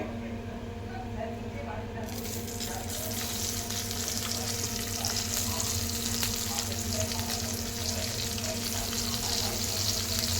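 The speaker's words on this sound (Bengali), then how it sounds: "এই পেঁয়াজটা ভাজা হবে।" Onions fry in hot oil with cumin seeds, a steady, dense sizzle that grows brighter partway through and continues unbroken.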